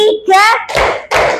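Group of children clapping a rhythmic class clap pattern as a classroom ice-breaker, with bursts of sharp claps and voices calling out between them.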